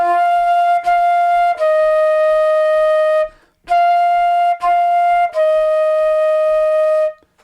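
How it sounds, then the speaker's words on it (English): A band teacher plays the upper harmony line of four measures from a beginner band piece on a wind instrument, sustained clear tones with rich overtones in two matching phrases separated by a short breath, loud and close with no talking. "I'm going to play the upper note. So these 4 measures sound like this."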